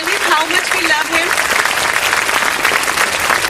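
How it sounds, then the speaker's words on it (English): A large audience at a literature festival in Indore breaks into steady, sustained applause welcoming author Ruskin Bond, dense clapping filling the room throughout with a few voices briefly audible near the start. "Can we give a great round of applause to tell him how much we love him?"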